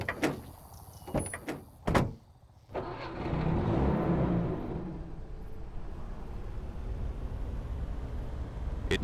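Car from the video game Purgatory Campaign: a few sharp door and handling clicks, a door shutting, then a steady engine drone that starts up and holds at moderate loudness to the end.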